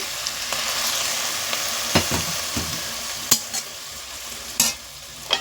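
Drumstick greens (sajne shak) cooking in a pan, with a steady close sizzle and several sharp scraping or clinking spatula strokes scattered through it; no talking.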